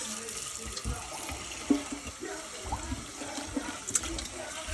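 Cold water runs steadily from a tap into a bowl to wash skinned rabbit meat, with a continuous splashing rush and a few clinks and knocks.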